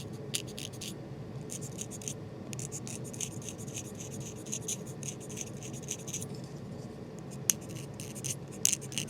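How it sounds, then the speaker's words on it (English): A knife scrapes oboe reed cane in quiet, close, repeated short strokes, a dry rasping scratch over a low background hum, with one or two sharper clicks near the end. "Not digging in, just turning the wrist to get the knife to cut."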